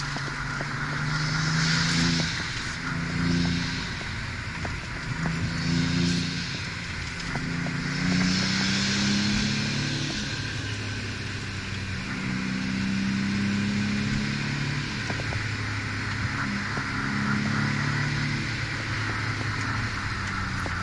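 Porsche 911 997 Turbo driving along winding canyon roads, its engine droning steadily from inside the car and rising and falling with throttle changes through corners, without talk.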